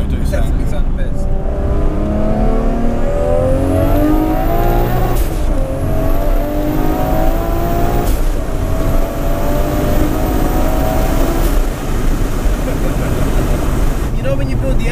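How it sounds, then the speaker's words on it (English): A loud 844 bhp Toyota Supra race car revs its engine hard and steadily, climbing to high revs with sharp drops at the gear changes, filling the whole clip with constant roaring. "Supra sound the best, I think"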